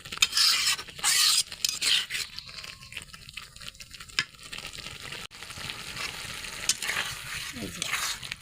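Coconut prawns frying in a pan while being stirred: a few rough scraping strokes at the start, then a steadier sizzle with occasional utensil scrapes.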